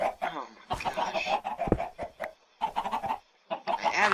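Minecraft chickens cluck and squawk in short, choppy bursts separated by brief gaps, close and fairly loud, with no talking.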